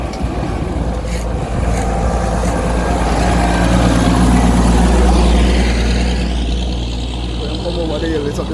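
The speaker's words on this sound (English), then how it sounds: "Yeah, look at the truck come over the hill." A truck comes over a hill on a road in eastern St. Thomas, Jamaica, its engine rumble swelling to a loud peak midway and then fading, with people talking through it and a windy roadside hiss.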